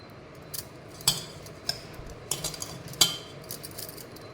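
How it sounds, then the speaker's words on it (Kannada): A spoon scrapes and clinks against a bowl while rava, cumin, salt and sugar are stirred together for jowar paddu, giving a few sharp, close taps scattered over a soft gritty rustle. "ಸ್ವಲ್ಪ ಸಕ್ಕರೆ ಹಾಕಿ ಸ್ವಲ್ಪ ಚೆನ್ನಾಗಿ ಇದನ್ನು ಮಿಕ್ಸ್ ಮಾಡ್ಕೊಂಡ್ಬಿಡ್ತೀನಿ"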